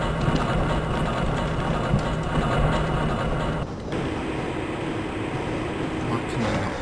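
A train ride in the video game Half-Life: Blue Shift, a steady mechanical rumble and hum that continues throughout, with someone talking over it.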